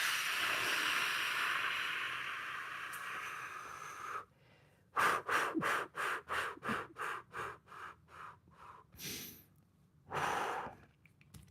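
Deep breathing during a lower-body stretching session, first a long steady exhale, then a run of about nine short rhythmic breaths and a final longer one, close and alone.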